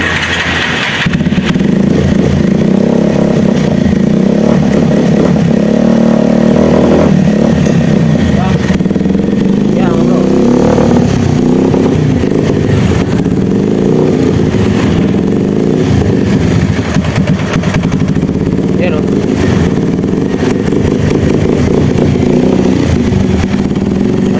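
A Bajaj Rouser 180 motorcycle engine runs steadily after being started, a loud close mid-pitched drone with slight revving and someone talking over it.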